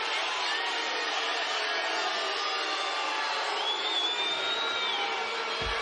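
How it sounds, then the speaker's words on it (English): A home basketball crowd at an NCAA game between Texas A&M Corpus Christi and McNeese State reacts unhappily to a charging call, a steady, dense wash of murmuring, shouting and scattered whistles filling the arena throughout. "Crowd doesn't like it."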